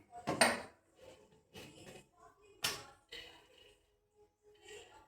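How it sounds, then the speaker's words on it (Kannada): Peanuts are tipped into a hot pan for frying, making several sharp, close clattering bursts of metal and hard kernels separated by short quiet gaps. "ಇದಕ್ಕೆ ನಾನು ಸ್ವಲ್ಪ ಕಡಲೆ ಬೀಜನ ಹಾಕೊಂಡು ನೀಟಾಗಿ ಫ್ರೈ ಮಾಡ್ಕೊತೀನಿ"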